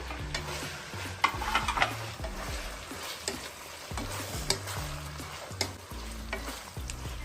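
Vegetables frying in ginger-garlic paste for a vegetable pulao, with a soft sizzle broken by repeated spoon scrapes and clinks of stirring in a steady rhythm, fairly quiet.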